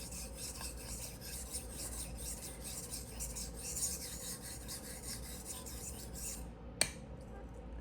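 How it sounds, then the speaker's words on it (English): A kitchen knife rasps steadily against a sharpening stone while oboe reeds are being prepared, a continuous close scraping with no voices, then a sharp single click near the end followed by a quieter scrape. "I'm going through this knife sharpening a little quickly"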